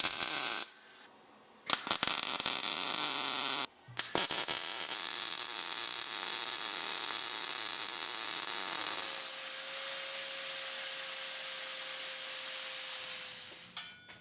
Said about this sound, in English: Welding is complete.